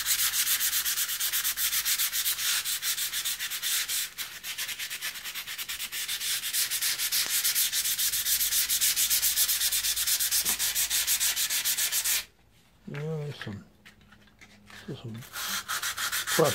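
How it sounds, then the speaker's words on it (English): 400 grit sandpaper rubs back and forth over an old metal edge tool in a continuous, close, raspy scrubbing that runs for about twelve seconds, then stops, leaving a few faint handling sounds. "So I'm going to take a little 400 grit and just give it another once over"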